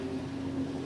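A boat motor hums steadily in the distance on a river, a low even drone with faint wind around it and no talk.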